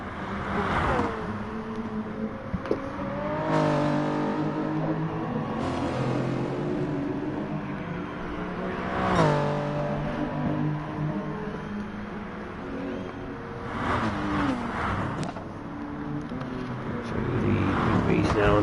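Race cars, including a Toyota overtaking, circulate at the Mount Panorama circuit during a Group 3 Super Championship round, with engine notes rising and falling through several passes beneath continuous commentator talk.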